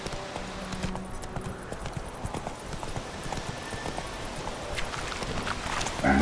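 Horse hooves galloping in The Witcher 3, a fast continuous clip-clop rhythm over outdoor ambience throughout, moderately loud.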